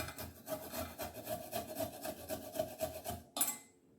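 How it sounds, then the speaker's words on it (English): Ginger is grated in a home kitchen with quick rhythmic rasping strokes, about a dozen in a row, close and clear. A sharp knock follows near the end. "Grate the ginger."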